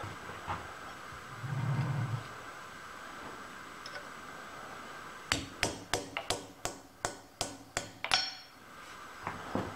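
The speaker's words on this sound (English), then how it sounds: "Let me see if I can chisel it off." A hammer strikes a chisel to knock a metal burr off an almond centrifuge build, about ten sharp, evenly spaced metallic blows up close after a quieter stretch with a brief low rumble.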